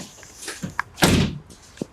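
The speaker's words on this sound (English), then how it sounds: "Now shut the door, open the door" A door on a Holden HSV Clubsport VE being shut: a few light clicks and rattles, then one solid close thunk, ending with a small latch click, all alone and close by.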